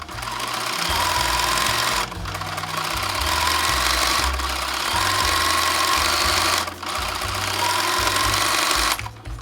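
An overlock serger sews the crotch seam of a pair of shorts. Its fast, steady mechanical chatter runs loud and close, with two or three brief pauses between runs.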